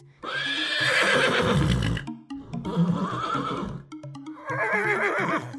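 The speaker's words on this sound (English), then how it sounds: "horse." A horse neighs three times in a row, loud and near, each whinny rising and shaking before dropping off, with soft background music beneath.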